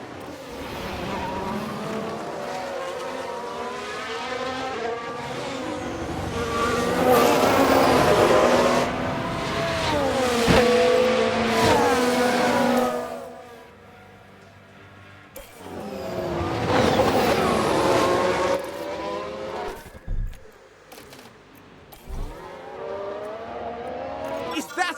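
Formula 1 race cars in F1 Manager 2022 scream past in loud revving surges that rise and fall, with a quieter lull in between and sharp bursts near the end hinting at a tyre lockup.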